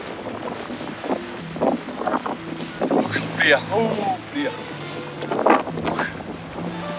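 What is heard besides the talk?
wind blowing outdoors at a beach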